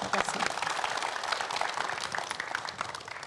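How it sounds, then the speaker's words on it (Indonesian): Applause from an audience of mothers and fathers at a family-harmony talk fills the space with dense, steady clapping, while a voice speaks underneath in Indonesian. "Boleh berikan ya. tepuk tangan Ibu Bapak."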